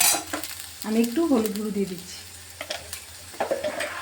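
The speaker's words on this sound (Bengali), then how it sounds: "দিয়ে একটু আলুটাকে মিশিয়ে নিচ্ছি" Potatoes frying in a pan with stirring and clattering, while someone talks over the cooking throughout.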